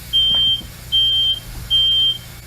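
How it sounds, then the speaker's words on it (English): A new smoke detector in a bedroom sounds three loud, shrill piercing beeps at an even rhythm, each about half a second long, with short gaps of quiet between them. "He awakens as soon as a new smoke detector in his room goes off"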